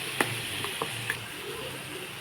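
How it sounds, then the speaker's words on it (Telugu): Spice paste for chicken curry sizzles and fries in a pan. A steady, close hiss runs throughout, with a few light clinks of a utensil against the pan. "ఇలా ఫ్రై అయిన తర్వాత ఇందులో మనం ముందుగా పేస్ట్ చేసి పెట్టుకున్న పేస్ట్ను యాడ్ చేసుకుందాం"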